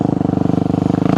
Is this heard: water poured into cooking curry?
no